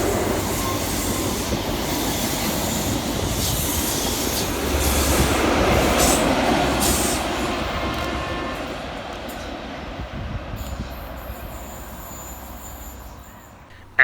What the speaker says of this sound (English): Passing fast through the station for Scotrail is 43138 and 43164, working 1 Alpha 91 from Edinburgh Waverley through to Aberdeen.